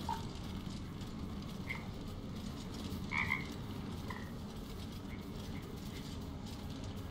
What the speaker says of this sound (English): It ribbits erratically as if in pain.